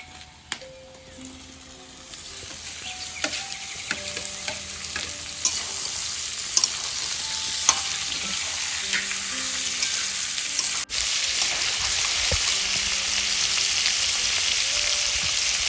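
Young jackfruit pieces added to fried onions in hot oil and stirred in a village kitchen; a loud, continuous sizzle close by, punctuated by repeated scraping and clinking of a spatula against the pan.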